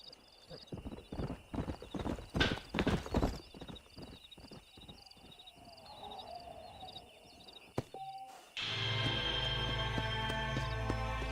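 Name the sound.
horse hooves, Kentucky Saddler horse, Red Dead Redemption video game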